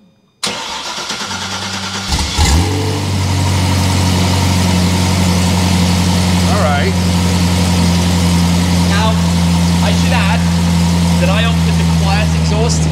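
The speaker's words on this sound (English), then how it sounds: "Let's give it a cold start." Car engine cold start: a short crank catches, flares, then settles into a loud, steady, close idle with a deep low drone, while people talk quietly over it.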